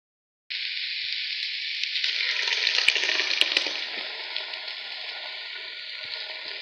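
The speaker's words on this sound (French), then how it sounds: "je vais verser le mélange de tomates" A tomato mixture hits sizzling beef in a pan with a sudden loud hiss that holds strong for a few seconds, then eases into a steady, slightly softer frying sizzle.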